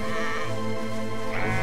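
A sheep bleats in the video game Valiant Hearts: The Great War, one long, loud, wavering cry that carries on through the short clip with no speech over it.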